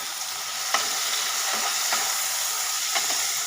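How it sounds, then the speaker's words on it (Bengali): Prawns fry in hot oil with a continuous close sizzle, broken by several sharp scraping stirs of a spatula against the pan at irregular intervals. "খুব বেশি ভাজার দরকার নেই, এমনিতেই চিংড়ি মাছ একটু কমই ভাজে,"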